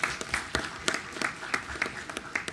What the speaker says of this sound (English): So everybody give him a round of applause tonight,